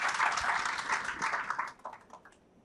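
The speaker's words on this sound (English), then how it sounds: "A round of applause for Ade." Audience at a diaspora roundtable event applauding a guest, a full round of clapping that holds steady and then thins out into scattered final claps as it fades.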